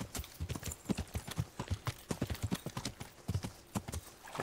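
Horse hooves clip-clop steadily at a walking pace in Kingdom Come: Deliverance, a medieval video game, with a brief whinny near the end and no talking.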